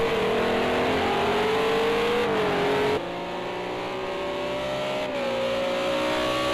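Renault RS 01 race car engines in the racing game Project Cars 2, a loud sustained high-pitched whine rising and dipping through gear changes, with one car briefly dropping revs exiting a hairpin turn.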